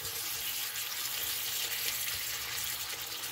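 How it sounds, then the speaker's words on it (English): Beef browning in a hot pan for a broccoli and beef stir-fry, giving a steady, even sizzle with a continuous hiss throughout and no voices. "we're going to get this beef browned here"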